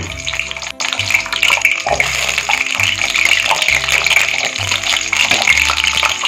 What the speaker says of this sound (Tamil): ஓரளவு நல்லா சூடான உடனே நம்ம சின்ன வெங்காயம் நூற்றம்பது கிராம் சின்ன வெங்காயத்தை ஆட் பண்ணிடலாம்